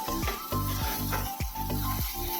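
Eggplant pieces dropped into hot oil for a Bengali fish curry, a loud steady sizzle with repeated scraping strokes and rhythmic thumps of stirring, close and with no talk.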